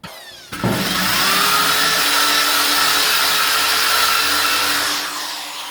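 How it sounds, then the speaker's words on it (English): Power drill whirring steadily at close range in a garage during the restoration of a Ford XC Fairmont 351, spinning up after a brief start and holding a loud, continuous high-pitched whine for several seconds before easing off. "I just want to get the drill and just see."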